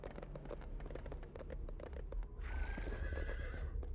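A horse in the video game Sacred Gold neighs loudly with a long whinny, set over a steady run of clip-clopping hooves, with no talking.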